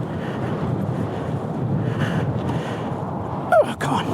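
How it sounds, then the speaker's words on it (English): Strong wind in the Mojave Desert buffeting a microphone outdoors beside a highway, a steady loud low roar throughout with a brief sharp gust and squeak near the end. "this wind is insane"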